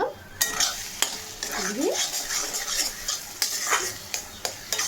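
Mashed ivy gourd fries in oil in a pan while a spatula stirs it, giving a close, continuous sizzle broken by sharp scrapes and knocks against the pan, with a brief spoken word.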